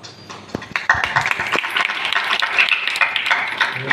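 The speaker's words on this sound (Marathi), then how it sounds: "टाळी वाजवत जा कधीतरी बरं का ह्याच्यासाठी." Audience at a kirtan in Kasargaon claps along, a dense steady patter of hands continuing throughout, fairly close and loud.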